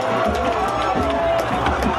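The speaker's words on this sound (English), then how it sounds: "And the Amite Warriors crowd on their feet" A home crowd of Amite Warriors fans cheers and roars continuously at a 2016 high school football game against McDonogh 35 after a long run. The loud, unbroken crowd noise has a commentator's voice faintly over it.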